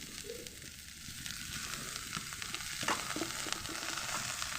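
Chopped greens sizzle hotly as they hit onions already fried in a pan, giving a steady, close, dense crackle that carries on without pause and with no voices.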